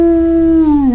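A dog howls in one long, loud, sustained note close by, its pitch holding steady and then sliding slightly lower at the end, with no talking.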